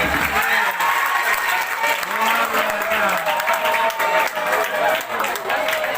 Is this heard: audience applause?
yes